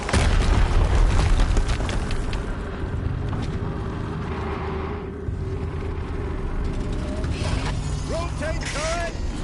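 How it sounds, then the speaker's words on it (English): Heavy rumbling blasts and mechanical clanking from an explosion in the video game Horizon Zero Dawn, a loud burst at the start easing into a sustained grinding drone with creaks and a few tonal chirps near the end. "Another explosion."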